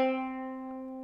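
A single plucked qanun string sounding middle C (do), ringing steadily with clear harmonics and slowly decaying, alone and close.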